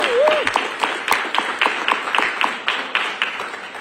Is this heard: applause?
yes